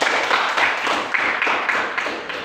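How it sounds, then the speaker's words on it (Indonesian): A classroom of students claps together, a dense run of hand claps with a slight rhythmic pulse that lasts a couple of seconds, fairly loud and close. "Mari kita tepuk tangan."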